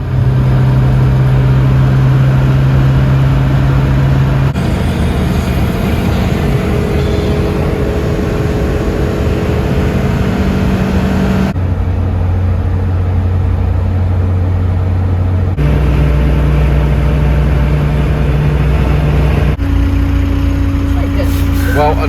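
Classic Fiat Panda on the road, its engine droning loud and steady from inside the cabin, pitch shifting at gear changes across a long stretch, with people talking over the running car.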